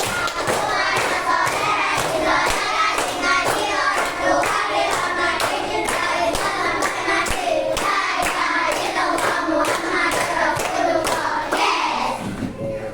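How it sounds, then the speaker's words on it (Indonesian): A class of children doing the tepuk anak soleh clapping chant, loud rhythmic group claps in a steady beat with many young voices chanting along, close and energetic throughout. "Yang keras, 1, 2, 3, tepuk anak soleh."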